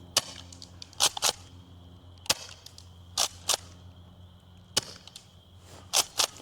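An airsoft gun firing green tracer BBs: sharp, close snapping shots, single and in quick pairs, spread irregularly over a quiet background.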